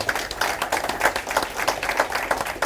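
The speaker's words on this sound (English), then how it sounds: "a round of applause" A crowd at a Quarterback Club meeting claps for the booster president, steady dense applause filling the room for a few seconds with no speech on top.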